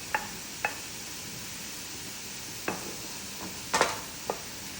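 Onion goes into a pan of chicken, answered by a soft continuous sizzle and several short scraping stirs and clinks of a spoon against the pan.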